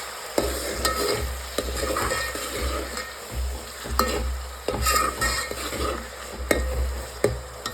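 Ginger, garlic and tomatoes sizzle together in a pan for a village-style urad dal, a steady crackling fry with repeated scrapes and clinks of stirring, close and moderately quiet, no talking.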